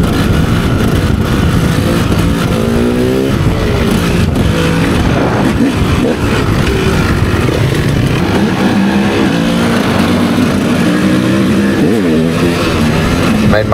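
A 450 motorcycle being ridden, its engine loud and close with continuous revving and shifting pitch, while voices talk and shout throughout.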